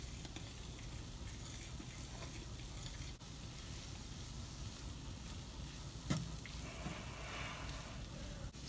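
Capsicum curry simmering in a pan, a soft continuous sizzle and bubbling hiss with a faint clink near the end, steady and low in level without voices.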